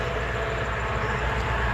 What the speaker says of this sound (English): Commuter train going to the city.